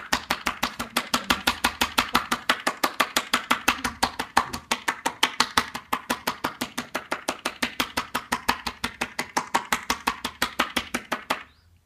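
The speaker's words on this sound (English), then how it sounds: "So that is patting technique." Rapid, steady hand pats of a Tui Na patting massage technique, roughly five per second, a continuous rhythmic patter of soft slaps close up for about twelve seconds, with no voices.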